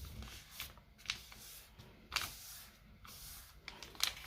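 Paper being creased and folded into a boomerang-style paper airplane, with three or four faint, crisp crackles and rubs spaced about a second apart over quiet room tone.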